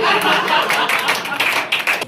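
Audience applause at a Hindi stand-up comedy show, a dense continuous patter of many hands clapping loudly for about two seconds, with faint laughter mixed in.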